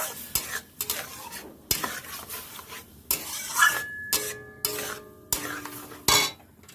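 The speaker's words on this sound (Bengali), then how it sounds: "এবার সুন্দর করে এটা নেড়ে একটু জাল করে নিতে হবে" Papaya pulp is stirred in a very hot pan for payesh, a spoon scraping the metal in separate strokes with faint sizzling and clinks between them, close up and with no talking.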